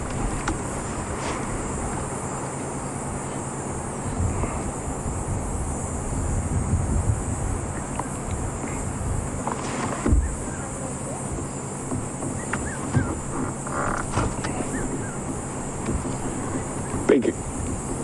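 Gusty wind buffeting the microphone on an open safari vehicle at dusk, a continuous rumbling roar with occasional stronger bursts.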